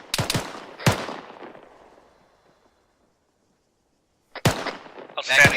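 Gunfire in the military game ArmA 3: a few sharp, close rifle shots with long echoing tails, a stretch of silence, then another crack and a rattling burst.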